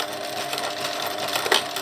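Sewing machine stitching along the crease of a tab valance, a steady fast mechanical whirr running throughout at close range.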